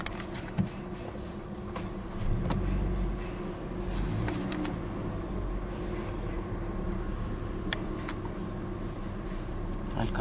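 A 2016 Hyundai Elantra GLS idles steadily just after starting, a low, even engine rumble that continues at a constant level throughout with a few faint clicks on top.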